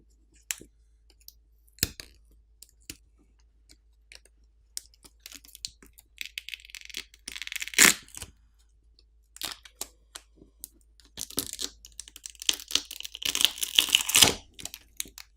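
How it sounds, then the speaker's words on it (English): A OnePlus 11 smartphone battery being pried off with pull tabs, quiet clicks and crinkling of adhesive tabs and film, with a few sharp snaps and louder peeling bursts. "To remove the battery, there are pull tabs on either side to help you pry it off"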